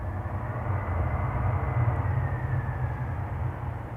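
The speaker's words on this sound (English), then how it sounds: "Listen to those old engines from the A300." Old Airbus A300 cargo jet engines at Memphis, a major cargo hub: a steady, loud, broadband roar with deep low rumble, continuous throughout with no talking.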